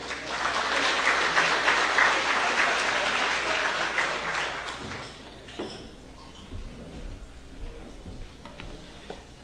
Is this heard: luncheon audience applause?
yes